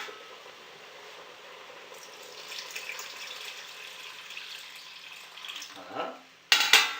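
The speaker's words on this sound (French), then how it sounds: "On va mettre encore un petit peu d'eau et faire cuire pendant une demi-heure." A little water poured into a pot of simmering veal tongue and vegetables makes a steady close splashing stream that swells, then gives way to a clatter and brief handling noises at the end.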